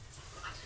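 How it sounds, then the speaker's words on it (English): Two dogs play indoors and give a short, close whimpering whine over a low rumbling background. "My foster dog and my dog are playing."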